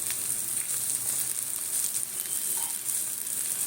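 Chickpea dal, coconut and shrimp fritters fry in a shallow layer of light oil, giving a steady, close bright sizzle with soft crackles that runs unbroken throughout.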